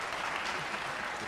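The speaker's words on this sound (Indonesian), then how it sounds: "Kita beri tepuk tangan pada Philip." Audience at a university investment Q&A applauding, a brief dense wash of many hands clapping heard alone.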